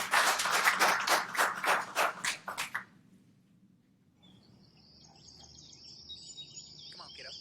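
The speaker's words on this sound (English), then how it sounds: "Let's give them a round of applause." Audience applause breaks out at a Space Force Reserve event, a burst of clapping lasting about three seconds that then stops abruptly, leaving quiet room tone and faint high chirping.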